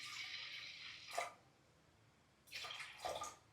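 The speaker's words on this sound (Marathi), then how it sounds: "त्याच्यामध्ये आपण आता मिक्स करूया पाणी." Water poured into a pot of washed toor and moong lentils for cooking a spinach dish, with two short bursts of pouring and splashing separated by a quiet pause, close and fairly soft.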